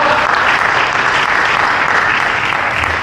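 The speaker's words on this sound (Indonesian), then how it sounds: "Tepuk tangan dulu dong" Loud applause at a Buddhist homa blessing ceremony, a dense, steady wash of many hands clapping that holds evenly for the whole stretch.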